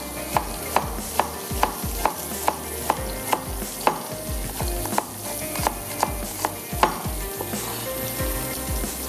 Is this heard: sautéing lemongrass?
yes